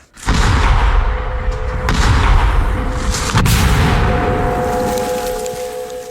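A single loud, heavy blast from a powerful mortar opens, then a long rumbling roll and echo fades out, with a faint high tone lingering behind.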